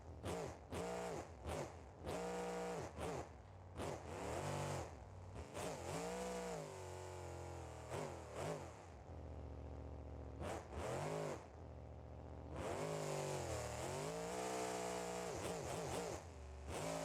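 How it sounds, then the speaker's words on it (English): A loud truck engine in a video game revs up and down repeatedly, rising and falling in pitch with short pauses between bursts, close and harsh. "The truck is pretty loud."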